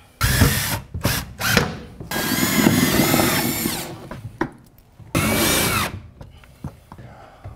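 A power drill drives fasteners with washers into cement board over metal studs on a steam room ceiling, sounding as several loud, close whirring bursts separated by short clicks and handling noises.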